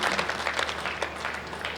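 An audience claps steadily at a Hindi kavi sammelan poetry stage, a dense, sustained patter of many hands that holds at an even level through the whole brief stretch.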